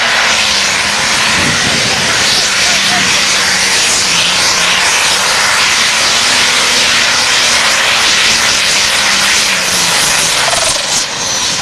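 A John Deere pro stock pulling tractor roars loudly and without a break through a Big Class NTPA Grand National pull. The deep engine drone shifts slowly in pitch as a distant crowd murmurs underneath.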